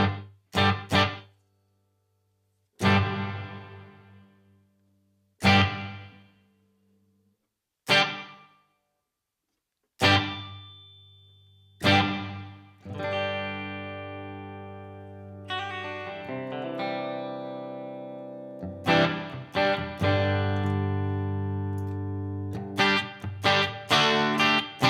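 Distorted electric guitar through a multi-effects unit's room reverb setting: several separate struck chords that ring out and decay, then a run of sustained notes and chords that trail into a short roomy tail.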